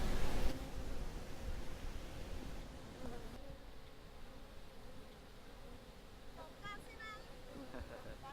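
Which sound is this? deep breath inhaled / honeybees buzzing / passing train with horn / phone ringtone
honeybees buzzing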